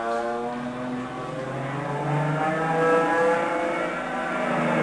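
Propeller airplane sound effect played during a lecture, a steady droning engine hum with harmonic tones that swells slightly and holds loud for the whole stretch, with no talking over it.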